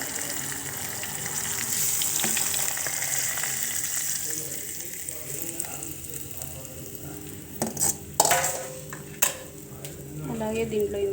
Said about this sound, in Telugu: ఇంకా పోపు వేసేసుకుని చట్నీలో.